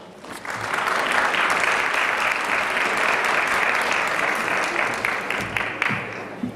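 An audience at a keynote speech gives a round of applause as a speaker is introduced, a full, sustained wash of many hands clapping that rises quickly, holds steady, then thins out near the end.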